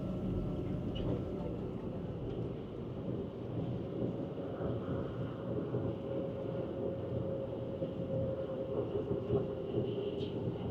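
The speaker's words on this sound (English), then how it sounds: "I'm so glad to be off that train, especially without a seat." Steady low rumble and rolling hum inside a crowded KTX high-speed train travelling to Gangneung, South Korea, continuous throughout with faint murmurs of passengers beneath.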